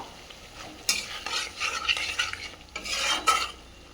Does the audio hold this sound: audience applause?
no